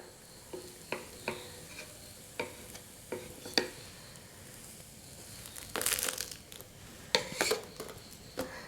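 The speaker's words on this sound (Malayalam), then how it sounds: "നമുക്ക് അവിടെ നിന്ന് ഇത് പതുക്കെ ഇളക്കിയെടുക്കാം." Ghee roast dosa being loosened from a chapathi maker plate, with soft scraping and stirring strokes, faint crisp rustles and a brief burst of sizzling, spaced out and fairly quiet with no talk.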